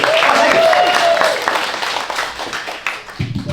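Audience clapping at a live stand-up comedy club show, a dense burst of applause that starts loud and slowly thins out, with a voice speaking over the tail end.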